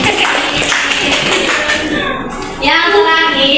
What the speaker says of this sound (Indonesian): Ayo tepuk tangan buat